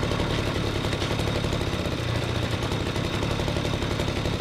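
A mini chopper motorcycle engine idles steadily after being started, a continuous low rumble that stays close and loud for the whole stretch, with no talking.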